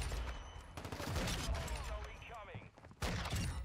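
Sniper rifle fire in the Modern Warfare 2 video game: sharp shots ring out and then fade, one more crack lands near the end, all mixed with excited talk from a player.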